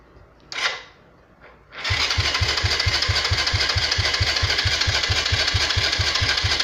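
Motorcycle with a newly installed kill switch: a brief mechanical whir and clunk, then the engine catches and settles into a steady, close, rhythmic idle putter that continues to the end.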